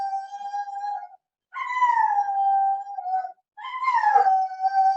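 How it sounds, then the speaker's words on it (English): A dog with bad anxiety howls in long, wavering cries: three drawn-out howls split by short gaps, rising and then sliding down in pitch, close and fairly loud, with no voices over them. "Oh, sorry, that's my dog."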